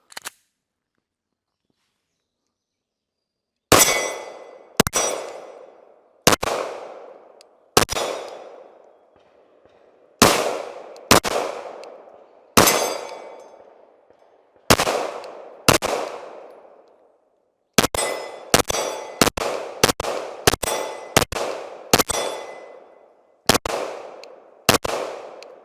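Competition handgun fired at steel targets: a series of sharp shots, some in quick strings, each followed by a ringing metallic clang, loud and close with no talk.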